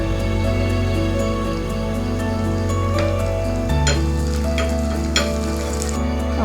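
Curry leaves drop into hot ghee with fried shallots and burst into a loud, steady sizzle, with sharp crackles and spatters popping through it.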